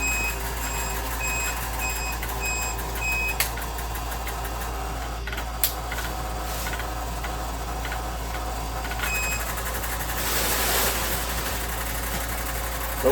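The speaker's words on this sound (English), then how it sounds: "The fuel pump does not sound good." Fuel pump on an old 6.0 Powerstroke diesel with a ZF6 gearbox runs with a steady low drone and whine, while an intermittent electronic beep chirps and a few clicks and a brief rush of noise break in.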